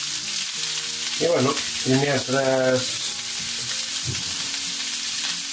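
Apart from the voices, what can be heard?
fish browning and frying in a pan for meunière sauce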